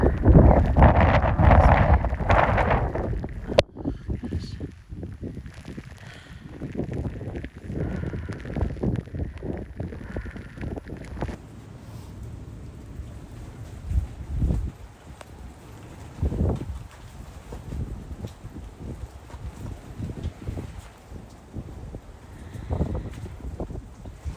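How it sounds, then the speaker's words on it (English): Gusty wind buffeting the microphone on Roan Mountain in rainy weather, with loud low rumbling gusts at first that ease into steadier, fluctuating buffeting. "Oh my gosh, it's windy and rainy."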